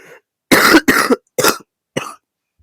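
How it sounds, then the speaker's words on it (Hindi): A short fit of four or five loud, harsh coughs in quick succession, close to the listener, with silence between them. "भाई खांसी हो गया पूरा।"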